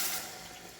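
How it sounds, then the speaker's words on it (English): Milk poured into a roux for mac and cheese, a soft, steady liquid pour with a brief louder splash at the start, then a quiet continuous trickle. "So what we do is we add a whole lot of milk"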